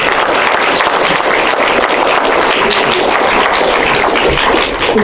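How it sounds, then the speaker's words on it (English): Dense, steady audience applause fills a theater at a documentary screening, loud and continuous throughout with no voices on top. "Yes, you can applaud."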